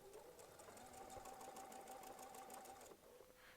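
A Pfaff sewing machine sews a steady line of ribbon stitches in orange thread with a fast, even mechanical whir that runs for about three seconds and then slows, heard at a quiet level and close by.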